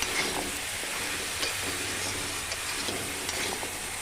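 Coarsely chopped onions hiss and sizzle steadily in hot oil in a pan for chicken stew, a continuous close frying noise with no talking.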